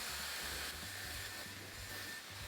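Loud steady whoosh of a cheap hair dryer-style hot air styler sold as a Dyson Airwrap dupe, blowing continuously up close with a thin whine riding over the broad airy rush.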